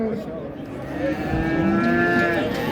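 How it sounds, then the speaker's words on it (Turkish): A cow at a livestock market in Çorum, Turkey, lets out a long, drawn-out moo that swells in loudness, with faint farmyard background and no talking. "Evet güzel inekler var."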